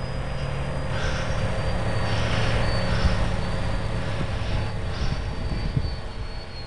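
A GWS Me109 RC warbird model plane flies at half throttle on a windy day, its electric motor a steady, continuous drone that swells slightly midway, with wind rumble underneath and no talking.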